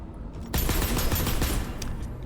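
Rapid bursts of automatic gunfire in the video game Deadzone Rogue, loud and close, starting abruptly and rattling on continuously to the end.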